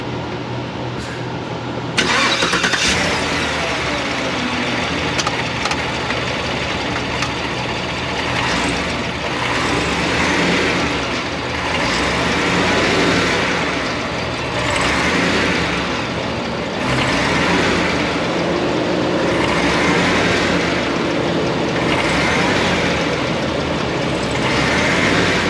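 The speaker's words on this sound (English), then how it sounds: "I'm gonna power brake this again just so you guys can see that broken mount." A Cadillac Escalade ESV's 6.2-litre V8 with a broken engine mount idles, then surges into a sustained, loud rev under power brake, holding a steady roar with slight pulsing for a long stretch.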